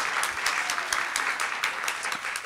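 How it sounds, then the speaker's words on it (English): Applause for student volunteers at a community talk on plastic pollution: a steady, moderately loud patter of many hands clapping at once, with nothing else over it. "Everyone applaud them."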